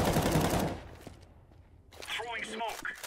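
Rapid bursts of automatic gunfire in Counter-Strike 2 open loudly and close, then fade to quieter game sounds as a voice speaks briefly near the end.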